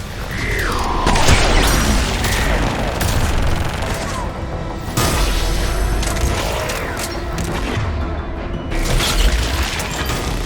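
Missiles launch and detonate in the Mass Effect 3 battle on Thessia, a loud, continuous barrage of booming explosions and rattling mechanical bursts that barely lets up, with faint voices under the din.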